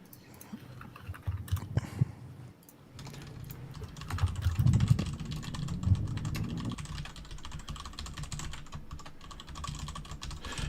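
Steady keyboard typing runs throughout, a dense stream of small clicks and taps at close range, louder and busier in the middle section, with no talking over it.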